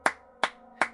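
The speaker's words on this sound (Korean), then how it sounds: "뒤에서 손뼉을 치는 소리가 들려왔다" Three sharp hand claps, evenly spaced about 0.4 seconds apart, each ringing briefly in a quiet, close room with no other sound.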